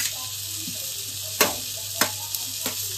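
Grated fresh coconut roasting in a pan for Malvani mutton gives a steady hiss, with a few sharp scraping knocks of a spoon spaced through the stretch, close up and with no voices.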